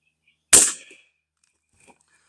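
A competition rifle fires a single sharp shot of Eley match ammunition from a shooting mat: one loud crack that quickly decays, then near silence broken by a few faint clicks.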